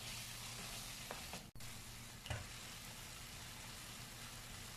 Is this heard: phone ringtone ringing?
no